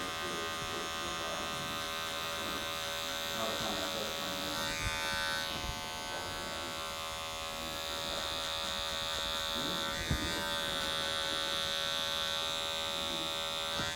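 Electric hair clippers fitted with a half guard buzz steadily while cutting hair, a close, constant motorized drone with brief shifts in tone as the blade moves through the hair.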